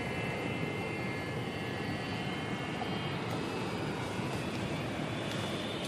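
An airplane rolling down the runway for takeoff, a loud steady engine roar filling the cabin with a sustained whine, no talking.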